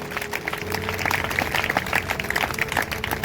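A church congregation claps loudly together in dense, sustained applause that carries steadily through the whole moment without a break.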